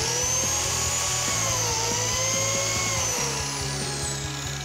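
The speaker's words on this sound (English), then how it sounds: "That's going to cut a slot into the end of our timber, which is where we'll locate our biscuits and help join it together." A biscuit joiner cuts slots into the end of a timber board, producing a loud, steady high-pitched motor whine with a rhythmic chattering buzz underneath, close by, continuous for several seconds with no talking.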